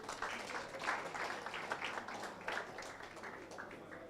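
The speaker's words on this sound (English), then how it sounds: "A round of applause for them." Applause for competing senior high schools at a national investment quiz, a moderate, irregular patter of clapping from a crowd, somewhat distant and fairly quiet, with no clear talk over it.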